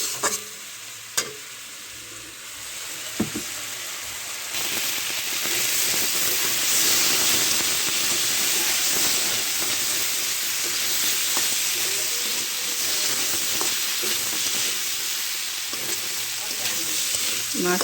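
Boal fish sautéing in a pan with a little water: a steady, close sizzle and steamy hiss running throughout, preceded by a few sharp utensil knocks at the start.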